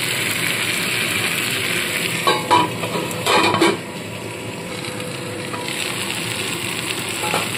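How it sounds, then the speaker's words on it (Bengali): Green tomatoes fry with potatoes in a pan, giving a steady close sizzle with a few brief scraping stirs near the middle, then a continuing hiss. "কাঁচা টমেটো দিয়ে আলুর সাথে আবারও খানিকক্ষণ একটু ভাজা ভাজা করে নেব।"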